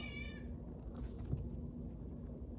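Miss Kitty, a pet cat, gives a single short meow close by to be let back inside the house, over a low steady hum.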